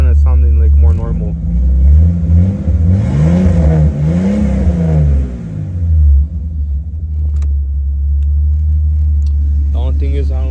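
A 1988 Jeep XJ engine idles roughly with a steady, loud low rumble throughout, and a voice is briefly heard near the start and end.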